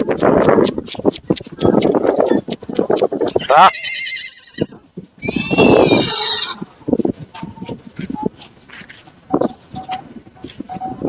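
Male country horses at the Vijayamangalam chariot festival horse market give a few loud, close neighs and whinnies between stretches of people talking nearby.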